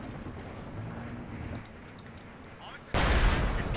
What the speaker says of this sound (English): let's barrage his base some more, because I can. Non-stop barrages, that's the thing, because it's 12 artillery shells